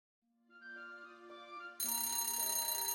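In a video game an alarm clock chime builds in a rising tone, then gives way to a loud, steady, bright electronic ringing that fills the rest of the clip without voices.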